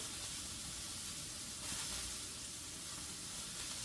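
Pieces of wild game steak searing in a hot pan, a continuous dense sizzle and hiss at a fairly low, even level with no talking.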